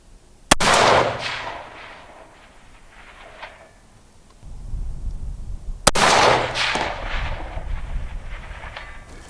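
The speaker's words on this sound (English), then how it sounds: "That was the last shot too." Two loud rifle shots from a budget recce rifle build, spaced several seconds apart outdoors, each cracking sharply and rolling off into a long echo.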